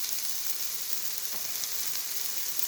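Noodles frying in a pan for pan-fried noodles give a steady, close crackling sizzle that runs unbroken throughout, with no voices.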